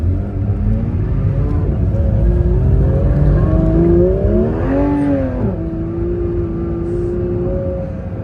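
A Porsche 992 GT3 RS engine drones loudly and close while the car is driven on snow, pitch climbing and falling through the revs with a sharp rising rev flare midway before settling into a steady hum.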